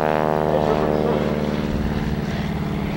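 Two black WACO biplanes fitted with big smoke systems fly overhead at the 1987 Cleveland airshow, their propeller engines making a loud, continuous buzzing drone that holds steady throughout.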